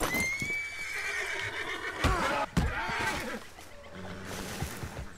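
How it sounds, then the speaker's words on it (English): A horse neighs and whinnies in Red Dead Redemption 2, its call loud and close, followed by hoof clip-clops and rustling movement. "I was trying to mount my horse with F because the last game we played was using F for interaction."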